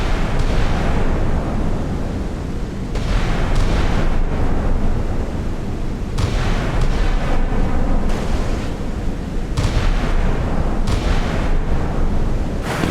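Naval missile and artillery barrage explosions from a video game of warships, with radar guns firing, form a dense, loud, continuous rumble of overlapping blasts that surges and drops in bursts.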